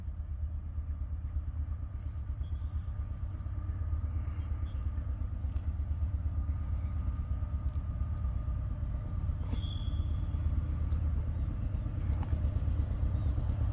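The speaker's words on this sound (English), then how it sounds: "Almost sounds like he's got a blown cylinder on that loco or something." A locomotive with a possible blown cylinder runs past at a distance, producing a continuous low, heavy rumble with an uneven, rough texture and a faint higher squeal at one point.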